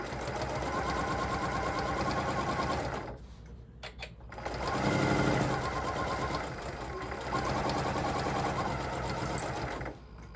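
A sewing machine stitches dark thread on a bag in loud, steady bursts, pausing briefly around the middle before running again.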